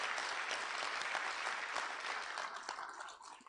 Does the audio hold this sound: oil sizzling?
no